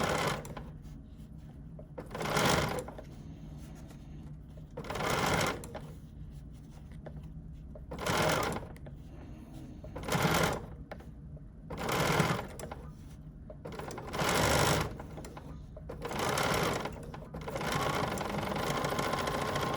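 A BERNINA sewing machine fitted with an edgestitch foot stitches a seam in several distinct bursts of steady whirring, each lasting a second or two. Quiet pauses separate the bursts, and the sound is close and clear.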